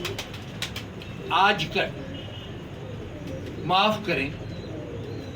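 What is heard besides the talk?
pigeons cooing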